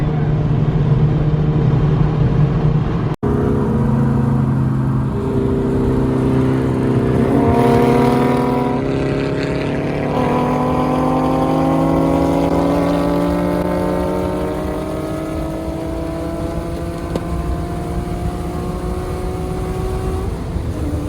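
A tuned Infiniti Q50 engine revs hard, its loud droning pitch climbing repeatedly through rising sweeps, close and continuous, with a sudden brief cut early on.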